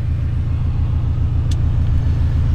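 A car being driven, heard from inside as a steady low engine and road rumble, loud and continuous with a faint brief tick partway through.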